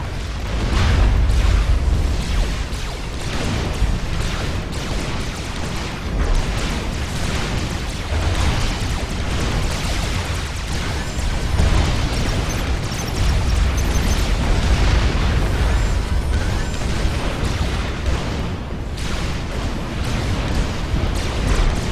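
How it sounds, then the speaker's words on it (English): Artillery firing and explosions in a real-time strategy match, a continuous rumble of booms and blasts that stays heavy and loud throughout, with no talk. "But my artillery is shooting"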